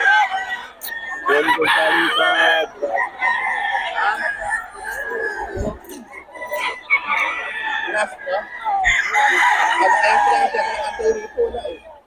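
Several fighting roosters crow loudly and repeatedly close by, their calls overlapping with clucks, while someone talks in between.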